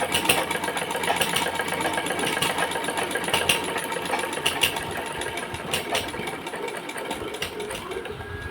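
A sewing machine stitching fabric runs in a steady, rapid mechanical whir with dense needle clatter, close and fairly loud throughout, with no talk.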